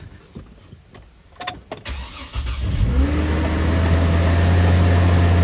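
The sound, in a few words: loud car engine running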